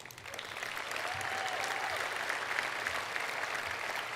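Steady applause from a crowd at a small business awards gala, sustained clapping at moderate level throughout with no talking.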